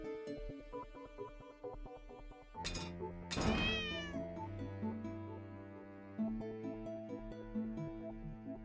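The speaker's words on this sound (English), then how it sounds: "Is that a cat?" A cat meows in the horror adventure game The Cat Lady, a rising harmonic cry near the middle set over a steady game music bed with sustained tones and low pulses.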